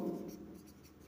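A pen or marker writes by hand on paper or a board during a geometry lesson, giving a faint, continuous scratchy rubbing close to the recorder with no talk.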